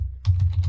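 A search is typed on a computer keyboard, a quick close run of several crisp key clicks.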